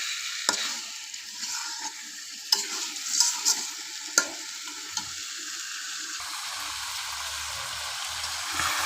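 Chicken stirred with spices in a pan over a clay stove, a close sizzle under repeated scraping, clacking stirs in uneven bursts, then settling into a steadier hiss with a low rumble.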